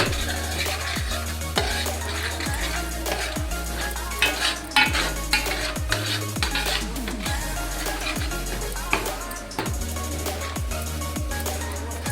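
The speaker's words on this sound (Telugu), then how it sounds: "అడగంటకుండా మంచిగా కలుపుకోవాలి" A spoon scrapes repeatedly around a pan of Telangana-style fish curry sizzling in oil, close and loud, with a steady rhythm of stirring strokes and occasional metallic clinks over a constant fry hiss.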